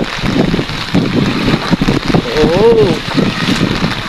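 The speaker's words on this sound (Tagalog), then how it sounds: "Malakas na naman ang hangin." Strong storm wind gusts over a flooded park with high floodwater, a steady loud roar buffeting the microphone throughout while a voice speaks briefly.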